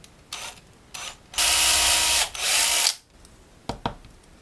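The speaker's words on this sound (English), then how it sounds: "I'm going to go ahead and drill the holes for the ballast weight" Power drill whirring in several short bursts, drilling ballast-weight holes in a fishing frog lure, then one sustained run of about a second and a half, loud and close, with quiet pauses between.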